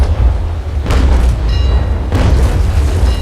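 Heavy cannon fire from sailing warships in the naval combat game Naval Action: two deep, loud booms about a second apart over a constant low rumble, the second blast rolling on with a long tail.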